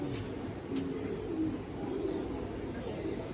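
Racing pigeons in a loft giving soft, low cooing calls, a few rolling coos close by over a steady background hum, with a faint chirp or two.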